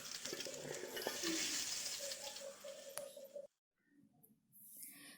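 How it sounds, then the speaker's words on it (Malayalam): Mustard seeds and curry leaves fry in coconut oil, a steady sizzle with stirring for about three and a half seconds, then a sudden drop to near silence before fainter crackling returns. "കുറച്ച് വെളിച്ചെണ്ണയിൽ കടുകും കറിവേപ്പിൻ്റെ ഇലയും കൂടെ ഒന്ന് വറുത്തിട്ട് അതും കൂടെ ചേർത്ത് കൊടുക്കാം"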